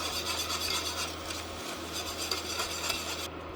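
A whisk scrapes briskly and continuously through a milk and broth mixture in a pot as it thickens into a paste for scalloped potatoes. The rasping, stirring sound is close and moderately faint, with no talking.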